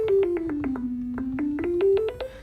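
A buzzy Zap Bass preset on Ableton Push 2 glides down then back up in pitch, broken by rapid rhythmic zapping pulses, steady and loud with nobody speaking.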